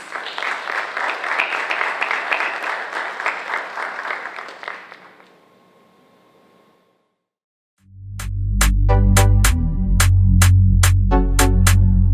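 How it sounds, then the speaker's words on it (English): An audience at an awards event applauds an honoree in the area of patriotism: a first burst of clapping fades into near silence, then loud, dense applause rises again with sharp ringing hits over a low rumble. "Let's give her a round of applause."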